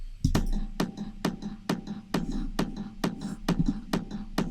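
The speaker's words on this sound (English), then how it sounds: "So firstly, we've got kick number 1, which sounds a bit like this." Kick drum sample, the first layer of a techno track's kick, repeats about ten times in a steady four-on-the-floor pulse; each hit is a quiet, short, sharp click over a soft low thump.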